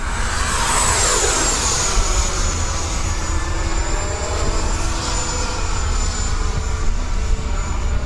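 High-pitched electric ducted-fan whine from a battery-powered RC Viper jet model plane in flight, holding a steady tone with a slight pitch drop as it passes, loud and continuous with no talking.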